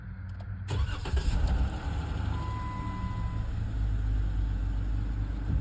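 Car engine cranking briefly and catching, then settling into a steady, fairly loud idle close by, with no talking; the vehicle is being checked for cylinder misfires.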